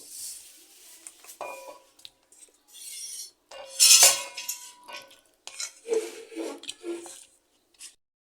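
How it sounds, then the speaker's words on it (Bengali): Koi fish fillets are mixed by hand with turmeric, salt and chili in a bowl, giving scattered, close-up rubs and scrapes with light clinks of cutlery and dishes, broken by short pauses. "মাছটাকে আগে হালকা হলুদ লবণ মরিচ দিয়ে মাখিয়ে ম্যারিনেট করে রাখলাম এখন আমি এটা মাখাবো"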